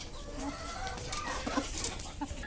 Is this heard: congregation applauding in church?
no